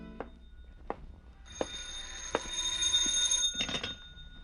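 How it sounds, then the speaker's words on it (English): A telephone rings in a radio drama scene, its bell trilling in several short bursts over a quiet room with a few light knocks and clicks. "a phone ringing that came from the phone"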